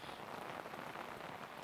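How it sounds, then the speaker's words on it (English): Heavy torrential rain pours steadily in Devlin, County Westmeath, a faint, dense wash of patter with one sharper knock near the end, and no voices. "torrential rain here in Devlin in County Westmeath"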